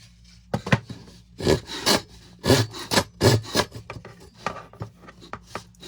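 A 7-inch folding hand saw cuts through wood in uneven bursts of rough, rasping strokes, some quick and some drawn out, close and fairly loud, with short pauses between the passes.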